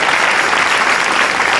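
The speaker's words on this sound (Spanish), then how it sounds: "Dele un aplauso al Señor" A church congregation claps loudly and steadily in a thick, continuous wash of applause, close and full, during an evening Spanish-language worship service.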